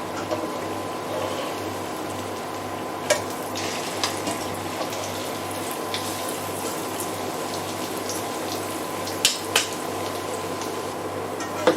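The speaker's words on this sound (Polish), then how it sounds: "smaż te placki na rozgrzanym oleju" Potato pancakes filled with cottage cheese and fresh herbs fry in hot oil, giving a steady, close hiss of sizzling with occasional sharp pops and crackles, heard alone without any talking.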